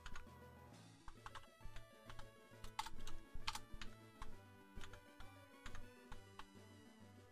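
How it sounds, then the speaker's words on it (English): Keys on a computer keyboard being typed in quick irregular bursts, close and fairly quiet over a steady musical background. "And we type in all of these stats."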